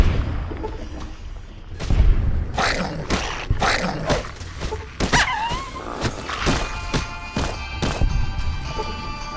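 Several dogs attack in the video game Fallout New Vegas, producing a dense, loud mix of snarls, barks and growls with heavy thuds and impact hits throughout.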